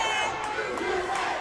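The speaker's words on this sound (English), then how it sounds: "Very much chanting for the home team." Crowd at a wrestling event chanting for the home team, a dense, steady roar of many voices with rising shouts, loud and continuous throughout.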